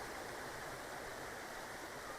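A river flows steadily and close by, a dense, even rushing wash of water with no pauses and no voices.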